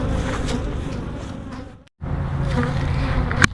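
Honeybees drone steadily inside an opened hive during a mite check, a dense continuous buzz that fills the clip, briefly dropping out near the middle before resuming at full strength.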